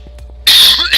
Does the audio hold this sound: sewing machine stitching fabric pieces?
no